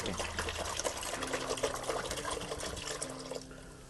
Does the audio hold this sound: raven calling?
no